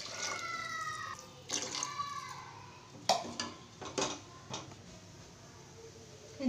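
Water poured into a pot of rice for vegetable biryani, with steady pouring and splashing plus several sharp clinks of a metal pot and utensils in a quiet kitchen.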